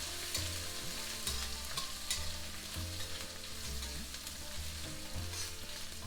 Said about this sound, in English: Keep frying it all the time.